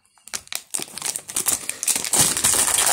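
A plastic snack packet from a mini-series collection is torn open and crinkled close by, a burst of dense, rustling crackles that builds steadily and stays loud to the end.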